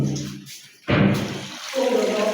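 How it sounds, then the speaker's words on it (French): A bathroom tap is turned on and water gushes into a sink with a broadband rush, steady and close, after a brief clunk. "Essaie d'ouvrir le robinet."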